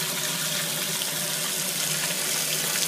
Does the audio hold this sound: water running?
yes